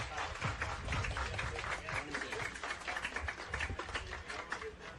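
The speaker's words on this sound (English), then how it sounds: "Everybody clap your hands." Crowd at a Wenatchee AppleSox vs. Kelowna Falcons summer-league baseball game clapping hands, a dense steady patter of applause filling the ballpark for several seconds with a faint murmur of voices underneath.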